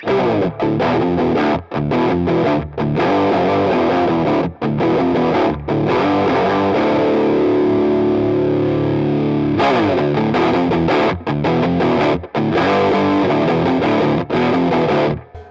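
A heavily fuzzed electric guitar through the germanium setting of a Walrus Audio Eons fuzz pedal plays loud, thick chords and a sustained note, with short gaps between strums and a gritty, saturated tone.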